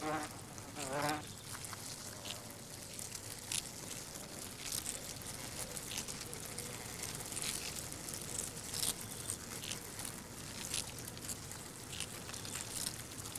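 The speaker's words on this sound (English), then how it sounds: "Sugar provides fuel for flight, but hornets must bring flesh in the form of other insects to feed their growing larvae." Hornets buzz among the old trees of the New Forest, several large wasps droning close and loud in overlapping passes, their whine rising and fading against a faint outdoor background.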